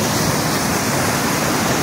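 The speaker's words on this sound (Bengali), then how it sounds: "চারিদিকে জলটা কীভাবে পড়ছে দেখুন।" Monsoon-swollen waterfall pouring down all around, a dense, loud, unbroken rushing roar of falling water heard close up.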